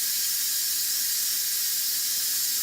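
Steam hisses from the open vent of an Instant Pot during pressure release, a steady, loud, continuous rush with no break across the clip.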